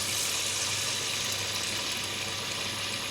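Potato and onion pakora batter fries in hot oil, a steady, dense sizzle that stays loud and even throughout with no voices.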